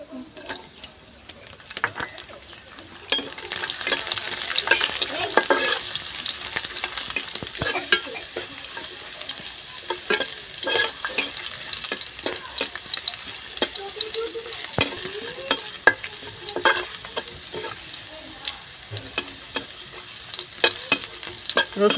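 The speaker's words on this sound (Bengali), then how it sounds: "টমেটো একটু হালকা লাল লাল করে ভেজে নিয়ে" Garlic and tomato frying in a pan with nigella seeds, a steady close sizzle broken by repeated scraping and stirring clicks for the full length, with no voices.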